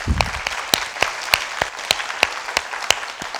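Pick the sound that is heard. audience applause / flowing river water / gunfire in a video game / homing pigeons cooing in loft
audience applause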